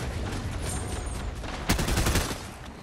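Gunfire in an online shooter game: a steady background of distant rattling shots, then a louder close burst of fusillade about two-thirds through that fades back into the scattered firing.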